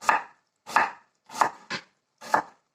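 Five crisp knife strokes slicing an onion into rings on a cutting board, spaced unevenly, close and clear with no voices.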